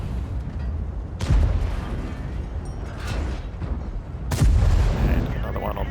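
Tank guns firing and shells landing in the video game World of Tanks, with two heavy booming impacts about three seconds apart over a rumbling battle backdrop, plus fainter thuds between them.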